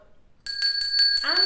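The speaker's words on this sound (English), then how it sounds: "I call it a Tibetan bell." Tibetan-style bell struck once after a brief quiet, then ringing with a bright sustained shimmer and a few pulsing swells, fairly close.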